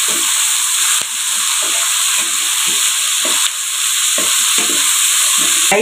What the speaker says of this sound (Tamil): பாதாம் சேர்த்துக்கலாம். ஒரு நிமிஷம் வதக்கட்டும்.